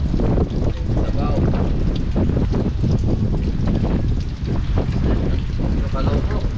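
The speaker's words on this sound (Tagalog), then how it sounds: "Malakas yung hangin" Strong wind buffets the microphone in a steady, loud roar, with muffled voices underneath.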